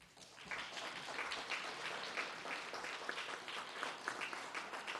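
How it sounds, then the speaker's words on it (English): A round of applause from the audience at an election forum in an auditorium, dense even clapping from a crowd that starts quickly and holds steady, moderately distant, without speech. "Please, a round of applause."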